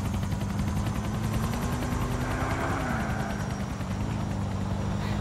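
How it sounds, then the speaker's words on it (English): A police combat helicopter in Grand Theft Auto IV drones steadily with a low rotor thrum and whine, loud and continuous, its pitch shifting slightly as it moves. "That's a police combat helicopter,"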